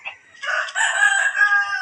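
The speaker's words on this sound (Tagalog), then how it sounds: "Ingay ng manok." A video game rooster crows loudly and close by, one long drawn-out call with no one talking.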